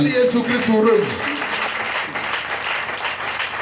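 Church congregation at a Friday sermon breaks into loud applause and cheering, a dense sustained clatter of clapping under a preacher's voice and shouts at the start.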